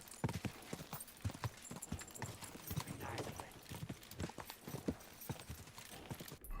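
Horse hooves clip-clop in a steady, quick rhythm inside a video game, fairly faint under a dense background of game sounds.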